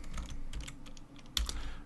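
Bursts of computer keyboard typing, with quick irregular clicking keystrokes at close range and a brief pause midway.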